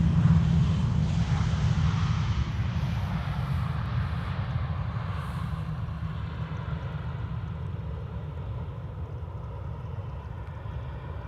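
An aircraft passes at an airport with a heavy, low roar that is loudest at first and slowly fades as it moves away. Wind buffets the microphone, and no one speaks.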